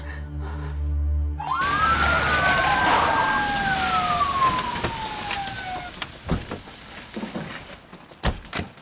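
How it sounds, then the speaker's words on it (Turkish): An ambulance siren wails in a tense drama scene, its tone sweeping up and down for several seconds before fading, followed by scattered knocks and thumps. "Ambulans geliyor."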